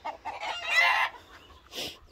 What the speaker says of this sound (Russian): Чего ты кудахтаешь? Чего вы кудахтаете?